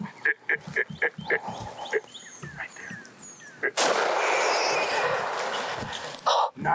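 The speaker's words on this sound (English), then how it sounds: "Nice shot, Ralph. We got the boar" A gunshot on a wild boar hunt cracks out loudly partway through and leaves a long rumbling echo, after several sharp yips and barks from hunting dogs nearby.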